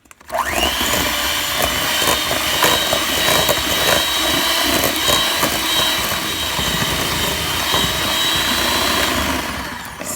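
An electric mixer creams butter with packed brown sugar for oatmeal cranberry cookie dough, a loud, steady motor whine with churning, slightly gritty beating that runs continuously, close up and without speech.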